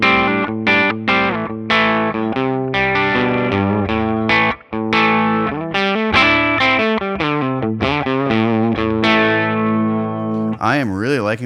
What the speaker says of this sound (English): Let's go full on with the gain.